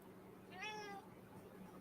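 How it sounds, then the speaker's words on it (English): A cat gives a single short meow at a distance, faint and clear above a quiet low background hum. "I heard a cat."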